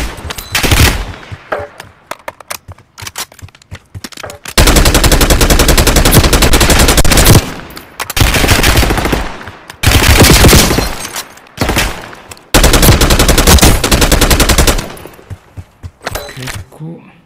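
Gunfire in Call of Duty Warzone Mobile: loud sustained automatic bursts alternate with scattered single shots and impacts, and a player talks between the volleys.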